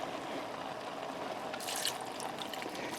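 Grass-fed beef bone broth pours steadily into a Cosori multi cooker, a continuous close liquid splash and trickle for a few seconds with no talking.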